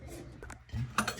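A utensil clinks and scrapes against a bowl while tuna kilawen, an Ilocano raw-fish dish, is mixed, giving a few quiet close knocks and a sharper clink near the end, with no talk.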